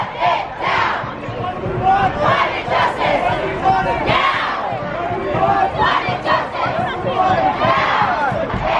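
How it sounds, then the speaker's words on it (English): Climate change protest march on a Midtown Manhattan street, a large crowd chanting and shouting together in loud, rhythmic, continuous waves, close and dense with voices overlapping. "We're protesting for climate change."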